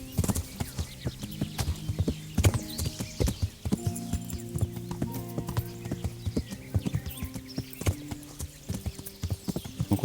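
Horse hooves clip-clop steadily while riding in the video game Kingdom Come: Deliverance, a close, continuous rhythmic clatter of strikes with game music tones underneath and a brief whinny.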